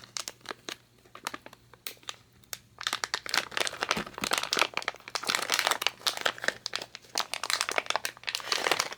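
Crinkly plastic Lego Minifigures blind bag being peeled and torn open by hand, a quiet start followed by several seconds of steady, close crackling and rustling.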